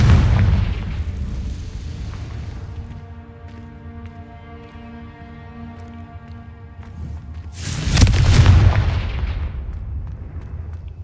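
A Confringo explosive spell blast in the Hogwarts Legacy video game booms once, loud and close, then a long rumbling decay trails off alone.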